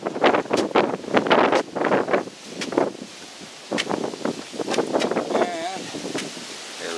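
Gusty wind on an outdoor hiking trail near a river and park, buffeting the microphone in loud rumbling bursts while a person talks throughout.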